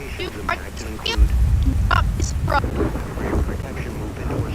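A severe thunderstorm with a steady wash of heavy rain, low rumbling thunder and a sharp crack, heard under a synthetic voice reading a weather warning.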